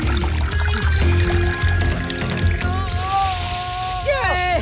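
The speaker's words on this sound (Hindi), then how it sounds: "और पानी डालता हूँ।" Water poured in a Gattu Battu cartoon, a steady trickling pour running under busy background music and sound effects, with a rising squeaky whistle near the end.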